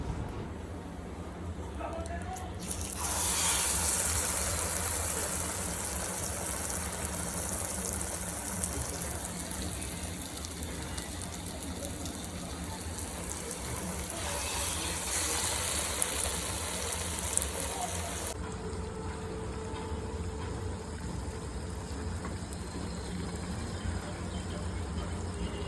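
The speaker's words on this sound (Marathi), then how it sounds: "हातावरती गोळा घेऊन त्यामध्ये छेद करून तो अलगद तेलामध्ये सोडावा" Medu vada, balls of lentil batter with a hole in the middle, fry in a pan of hot oil with a steady, close sizzle. The sound swells after a few seconds and shifts near the end.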